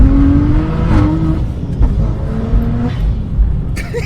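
BMW M135i with a tuned inline-six running on methanol, revving loudly and close with rising and falling engine pitch over a heavy low rumble and whooshing intake blow-off.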